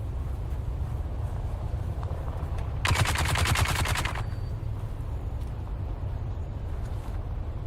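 A single burst of rapid automatic gunfire in the video game Dune Awakening, about a second and a half of fast even shots standing out over a steady low rumbling background.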